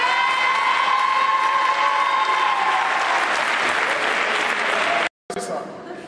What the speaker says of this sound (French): On applaudit très fort Naomi.